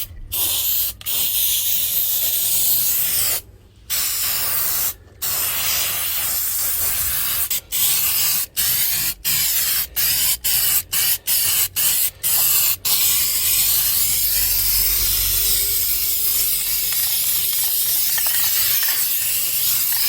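Contact adhesive sprays onto a Jaguar XJS 3.6 litre door card, a loud close hiss that cuts off in short bursts early on, then runs as a long continuous blast.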